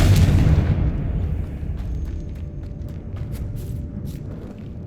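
A Confringo fire spell blast explodes in the Hogwarts Legacy game, opening as a loud, close boom that decays into a long rumbling tail with scattered faint crackles.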